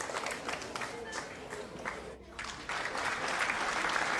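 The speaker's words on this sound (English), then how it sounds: "Her girlfriends saw her with surprise and suddenly broke into applause." Applause from a group of girlfriends in a romantic audio drama, a dense burst of clapping that briefly thins out and then swells louder, with speech-like crowd noise underneath.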